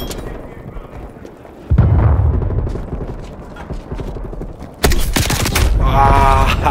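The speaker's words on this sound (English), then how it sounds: "I'm loving these grenade launcher." An M79 grenade launcher in a video game fires two heavy booming shots a few seconds apart, each a sudden loud thump with a rumbling tail, amid quieter game ambience.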